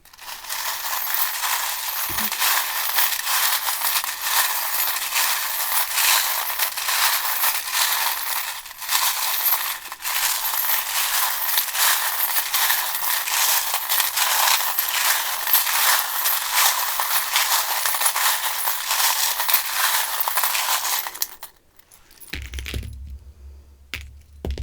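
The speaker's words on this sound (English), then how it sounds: "So we're going to do your charms and dice now for your extra messages" Tarot charms and dice are cast and shaken together, a long continuous rattle and clatter of small hard pieces, close and loud, ending with a few settling clicks.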